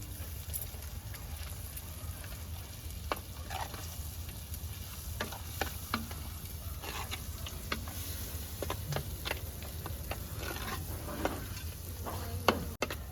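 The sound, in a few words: masala paste frying in oil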